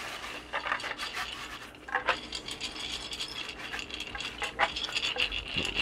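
Grain being stirred around in a jar with liquid culture for corn spawn, a continuous gritty rubbing and rattling with irregular scraping surges, close and alone without speech.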